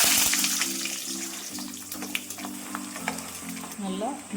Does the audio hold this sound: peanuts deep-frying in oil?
yes